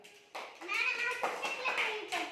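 A group of children at a village school claps in short bursts while kids' voices chatter and call out over the clapping.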